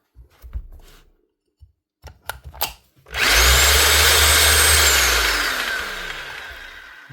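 A Bosch GBH 2/32 DF rotary hammer drill, faulty so it spins without hammering, starts after a few knocks and handling clatter and then runs loud and steady with a smooth whine, easing off slightly near the end.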